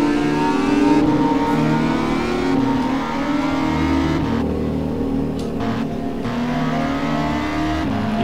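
Motorbike engine from a video game set in the Upin & Ipin village, revving and accelerating steadily throughout with shifting pitch, loud and continuous with no talk.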